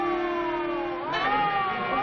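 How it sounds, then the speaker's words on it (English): A siren, probably an ambulance or police car, wails in a 1940 horror thriller film. It is a wavering, steady tone at moderate loudness that dips and then rises again, heard without speech. "It's a siren. Probably an ambulance or a police car."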